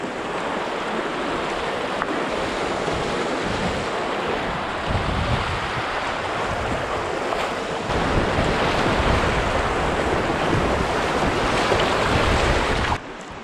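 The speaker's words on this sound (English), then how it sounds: "More volume in the river now, eh?" A river runs high and swollen after rain in the Canadian wilderness, a broad and steady rushing roar that fills the whole clip, with wind buffeting the microphone.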